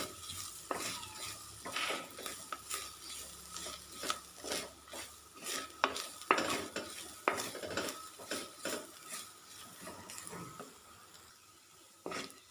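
Grated coconut is sautéed with dal and shallots in a pan, with repeated scraping stirs and clinks of a spoon against the metal over a soft, steady sizzle.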